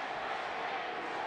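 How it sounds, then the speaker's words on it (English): Football stadium crowd at a Louisville versus Pittsburgh college game roars in a short, steady, loud wash of cheering voices, with no individual voice standing out. "I have not heard this crowd so far in the first half this into the game as they are right now trying to help their Panthers defense"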